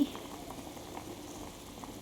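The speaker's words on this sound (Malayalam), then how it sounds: "ചായപ്പൊടി എന്നിട്ട് നന്നായിട്ടൊന്ന് തിളച്ച് വരും" Tea powder simmers in water on a stove for a homemade hair-care rinse, a faint, soft bubbling and gentle popping close by.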